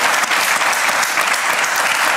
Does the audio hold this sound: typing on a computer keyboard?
no